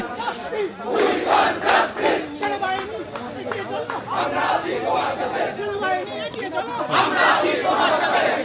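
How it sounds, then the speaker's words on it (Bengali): A protest march crowd chants anti-government slogans in loud, rhythmic waves of many voices, steady and close throughout, with surges of shouting at intervals. "তারা কিন্তু বারবার বলছেন স্বৈরাচার নিপাত যাক, গণতন্ত্র মুক্তি পাক, এমন স্লোগান তুলে"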